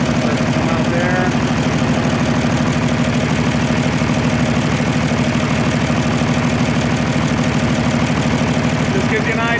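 An Oliver 1550 diesel tractor idles just after start-up, a loud, close, steady rhythmic chugging with a light mechanical clatter, while someone talks over it.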